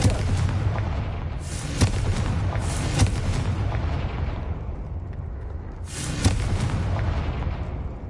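A Confringo fire-explosion spell goes off in the Hogwarts Legacy video game, heard as several loud booming blasts with bright crackling bursts over a dense, rumbling background, repeated at irregular intervals.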